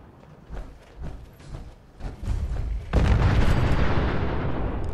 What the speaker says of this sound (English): Always love a good explosion.